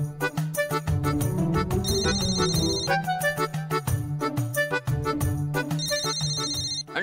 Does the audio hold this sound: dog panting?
no